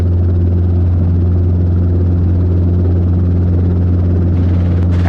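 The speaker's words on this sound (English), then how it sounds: "helicopter 522 Alpha Golf taking off 20" A Robinson R22 helicopter taking off during a flight lesson, heard as a loud, steady, close drone of engine and rotor that hardly varies from start to end, with no talk.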